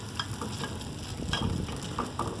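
Chapati frying in oil on a hot pan, a steady close sizzle with soft scraping and turning sounds, no voices.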